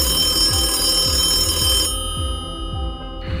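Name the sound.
telephone bell ringing in a museum office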